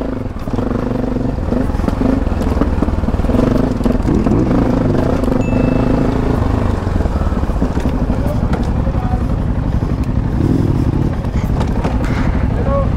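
Yamaha Tenere motorcycle with Hyper Pro suspension ridden along an off-road forest trail with roots and turns, its engine a steady loud drone throughout, with rattling clatter over rough ground and wind noise, no speech.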